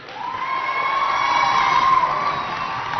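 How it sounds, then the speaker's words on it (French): Young audience at a school competition show cheering loudly for the jury, shrill whoops and shouts swelling into a sustained roar that peaks in the middle and eases off, with only scattered clapping. "On applaudit très fort pour les membres du jury"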